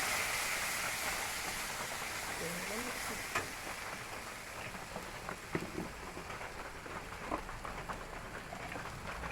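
Spices sizzle and crackle in hot oil in a pan while egg curry is being made, a steady soft frying hiss with a few stirring clicks, fairly quiet throughout.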